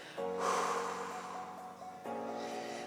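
A long breathy exhale during a light cardio aerobics workout, close and sustained, with a brief catch of breath near the end followed by continued airy breathing.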